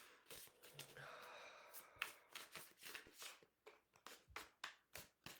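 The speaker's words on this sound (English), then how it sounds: "Not the smoothest shuffle today." Tarot cards being shuffled by hand, a quiet run of soft riffling bursts and flicking snaps repeating in an uneven rhythm, close and alone.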